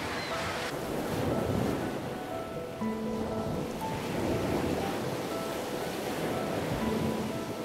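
Ocean waves at the edge of coral reefs off the Gold Coast of Australia make a constant broad wash of surf, and faint tonal sounds drift underneath.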